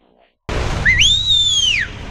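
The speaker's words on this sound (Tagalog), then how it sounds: "Isang sipol nga dyan." A man whistles loudly outdoors on a busy street, one strong, sustained shrill tone that rises and then slides down, heard close over steady background noise.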